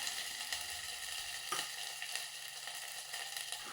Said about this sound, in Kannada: ಅಷ್ಟನ್ನು ಕೂಡ 1-2 ಮಿನಿಟ್ಸ್ ಅದನ್ನು ನೀಟಾಗಿ ಫ್ರೈ ಮಾಡಿಕೊಂಡ್ರೆ ಆಯಿತು.